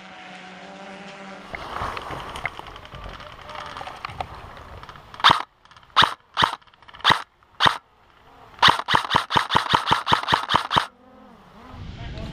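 Airsoft guns firing during an indoor airsoft game, a few single sharp cracks followed by a rapid burst of repeated shots, loud and close over background rumble.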